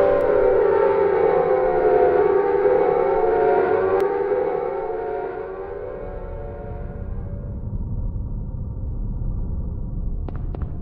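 An air raid siren in Silent Hill 1 wails loudly in a sustained, dense tone, then winds down and fades into a low rumbling ambience, with a couple of faint clicks near the end.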